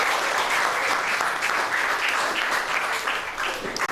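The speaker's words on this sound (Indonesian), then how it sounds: "Kita beri tepuk tangan untuk Nadita." A classroom of students claps for a classmate, a dense and continuous round of applause that holds steady for several seconds and stops abruptly at the end, with no voices over it.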